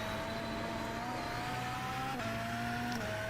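A hard-to-drive race car engine in an iRacing or Le Mans Ultimate sim howls steadily at high revs, with quick gear-change dips in pitch, loud and close with no talk over it.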